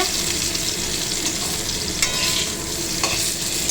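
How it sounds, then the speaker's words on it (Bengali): Potatoes sizzle in oil with a little turmeric and whole chillies while a utensil stirs and scrapes the pan, a dense steady crackle with a couple of sharper knocks, close and uninterrupted by voices. "এবার আমার আলুটা ভাজা হয়ে গেছে"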